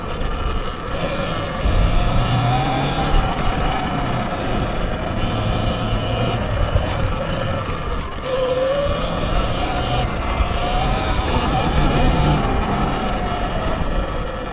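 A motocross motorcycle on new Dunlop MX53 tires laps a Japanese MX track, its engine a steady, close, continuous roar with gentle pitch swells as it rides, wind rumble mixed in throughout.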